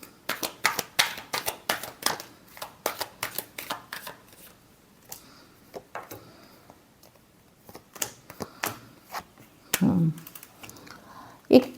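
Tarot cards are shuffled by hand in quick, crisp riffling bursts close by, pausing and resuming, with someone speaking in between.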